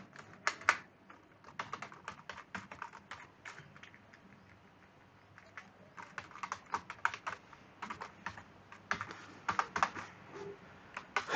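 Fast, irregular keystrokes on a computer keyboard as Java code is typed during a class session, with clustered bursts and short pauses, fairly close and alone without speech.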